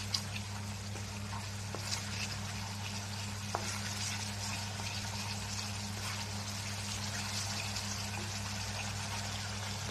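Paneer frying in a pan, a soft continuous sizzle with faint crackles and occasional light clicks, fairly quiet and steady with no talking.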